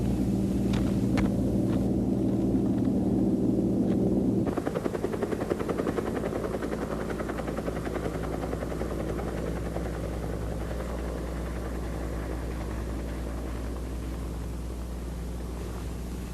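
Helicopter airlifting a section of the Our Lady of the Rockies statue over the mountains near Butte, Montana, a loud steady rotor and engine drone with a deep thudding pulse, continuous throughout and slightly easing after the opening seconds.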